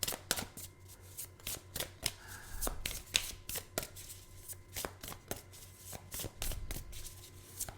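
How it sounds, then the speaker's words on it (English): Someone shuffles an inner child oracle card deck close by. The cards slap and riffle in quick, rhythmic bursts throughout, fairly faint. "They wanted me to draw from the inner child deck real quick."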